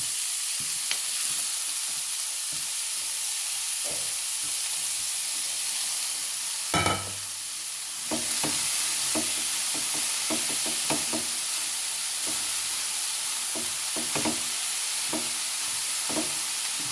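Banana blossom thoran, mixed with salt and grated coconut, stir-fries in a hot pan with a steady sizzle and hiss, broken by a louder scrape near the middle and a run of close, irregular knocks and clatters from stirring.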